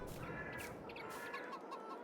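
Chickens clucking near a coop in Farming Simulator 22, a few soft close clucks and short calls over a quiet ambient farm background; no voices.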